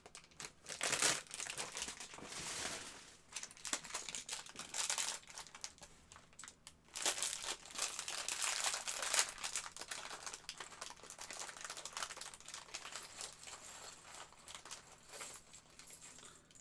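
Plastic bag of Lego pieces being crinkled and handled close up, bursts of sharp crackling and rustling that come and go in uneven waves, no voices.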